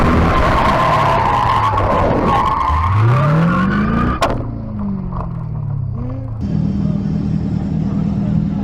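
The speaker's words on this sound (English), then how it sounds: "I was doing like 60, 70 mile an hour drift" Tires squeal loudly as a C5 Corvette slides through a fast drift at 60 to 70 mph, engine roaring and pitch sweeping, then the squeal cuts off and the motor keeps droning.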